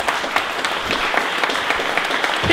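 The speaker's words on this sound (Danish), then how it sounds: "I skal klappe hende op." An audience applauds as a singer is welcomed on stage with a big band, giving dense, steady clapping from a crowd throughout with no talk.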